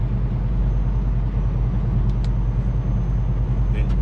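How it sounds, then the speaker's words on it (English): Steady low road rumble of traffic heard from inside a moving vehicle, with cars and heavier vehicles passing close by, a couple of faint higher hisses breaking through the continuous drone near the end. "It just seems like there's a lot of cars passing me."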